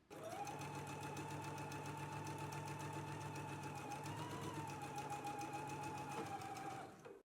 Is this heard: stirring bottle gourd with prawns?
no